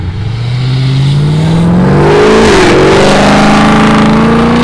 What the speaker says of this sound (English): It's the Procharge ZL1.